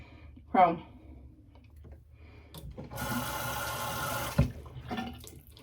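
A tap runs for about a second and a half to wet a rag, giving a moderate, steady splash in a quiet room, framed by a few soft clicks and handling noises.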